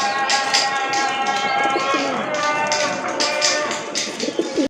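Local Bangladeshi pigeons coo and flutter close by amid a busy, steady background hum, with several overlapping calls.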